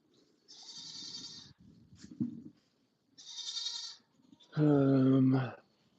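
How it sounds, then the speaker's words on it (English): Goats bleat close by at a livestock farm in three loud, drawn-out calls separated by pauses, with quieter rustling and shuffling in between. "you got a lot of goats, and that's not even all of them."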